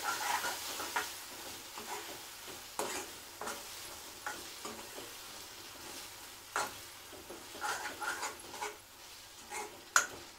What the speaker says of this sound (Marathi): आता आपण कोळंबी टाकूया. त्यामध्ये कोळंबी टाकली.